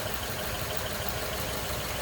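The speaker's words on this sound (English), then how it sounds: "as you can see, nice, smooth running V8." A 1939 Ford Deluxe two-door sedan's V8 engine idles smoothly and steadily with an even, continuous rumble and no talking.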